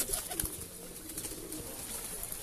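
Breeder pigeons in a rooftop loft coo softly and repeatedly against a steady background hiss, the low murmuring calls close by and overlapping.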